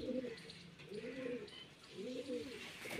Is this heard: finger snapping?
no